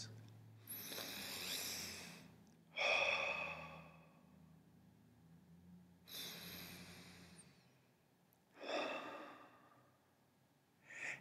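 Deep breaths taken during a worship service: several slow inhales and long exhales, soft and near, spaced a few seconds apart with quiet pauses between.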